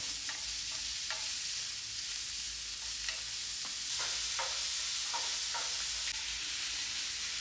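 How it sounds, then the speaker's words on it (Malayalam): Chopped onion and green chili sauté in coconut oil for a chicken curry, giving a steady close sizzle broken by repeated scrapes and clicks of stirring, with no voices. "ഇനിയിപ്പോൾ ഉള്ളി, പച്ചമുളകും അരിഞ്ഞത് അത് നമുക്ക് ആദ്യം വഴറ്റിയെടുക്കാം."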